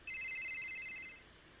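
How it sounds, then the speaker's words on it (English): A phone rings once with a short electronic tone, a clear bright burst lasting about a second that fades out, heard alone in a quiet room. "Sorry, my phone's ringing."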